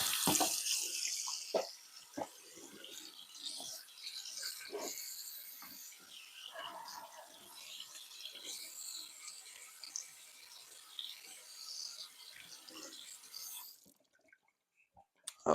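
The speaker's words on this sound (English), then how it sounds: "Wash my hands right fast." Tap water runs steadily into a kitchen sink while hands are washed beneath it, a soft continuous splash with small clatters, stopping abruptly near the end.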